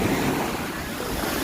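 Sea waves washing onto Marina beach in Chennai, a continuous broad roar of surf mixed with wind buffeting the microphone, steady and fairly loud with no talk.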